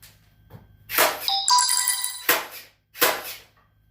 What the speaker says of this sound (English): If you hear my phone going off, that's pretty much how the customer contacting me.